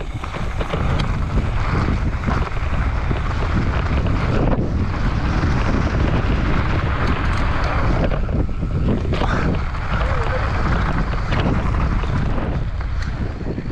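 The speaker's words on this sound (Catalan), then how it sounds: "Sí que fa vent, sí." Strong wind buffets the microphone during a mountain bike ride at Vallnord, a loud continuous roaring rumble with gusting swells and no voices.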